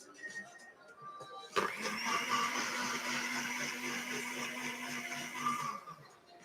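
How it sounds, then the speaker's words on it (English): An electric blender runs at a barista championship final, blending signature coffee drink ingredients including acerola powder into a smooth, creamy mix. The whir starts abruptly, holds as a steady loud drone for about five seconds, then cuts off. "all compounds I will mix in my blender to get smooth and creamy structure"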